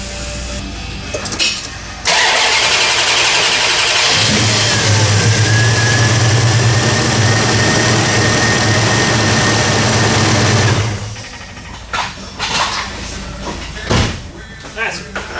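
A Plymouth Barracuda engine starts after final assembly and runs loudly for several seconds with a deep, steady rumble that rises in the middle and then cuts off, surrounded by shop clatter and brief voices.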